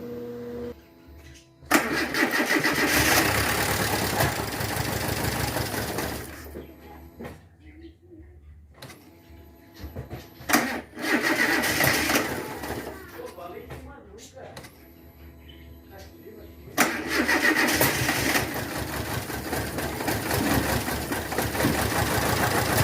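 Fiat Palio Fire 1.3 16-valve engine, just refitted after a timing belt change, cranking and catching, then idling roughly with a possible loose spark plug lead; loud bursts of running separated by quieter gaps, with voices talking over it.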